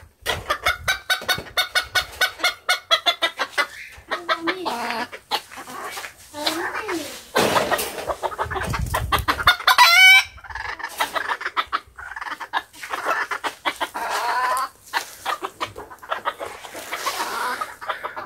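Chickens in a backyard coop clucking and calling close by, with busy, overlapping bird sounds throughout and short bursts of voices mixed in among them.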